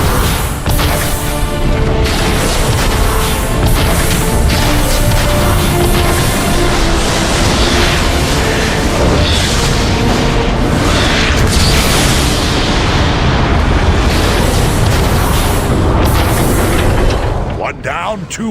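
Loud, continuous barrage of explosions and booming blasts as a warp cannon is destroyed in the video game Transformers: Fall of Cybertron, dense and sustained for nearly the whole stretch before cutting off abruptly.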